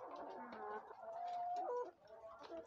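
A sick chicken clucks and warbles close by in short drawn-out calls, with faint background noise.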